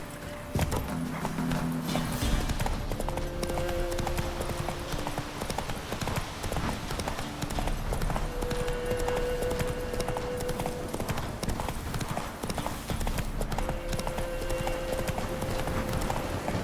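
Roach, a horse in The Witcher 3, trots in a steady clip-clop that runs throughout, heard over a constant game soundscape with tonal music in the background.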